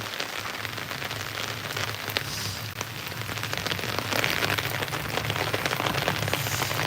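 Rain falls steadily on outdoor surfaces, a dense, constant hiss of drops that grows slightly heavier toward the end, with no voices.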